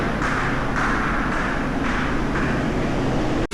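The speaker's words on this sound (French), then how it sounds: "C'est parti pour embarquer dans l'avion." Steady cabin hum of a Korean Air airplane during boarding, a constant loud drone with faint pulsing rises, ending in a brief cutoff, with no talking.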